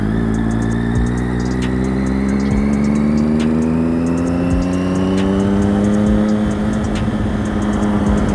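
The engine of a 2011 Triumph Daytona 675 motorcycle pulls hard and loud, its pitch rising steadily through a gear under constant wind rush, heard from the rider's position.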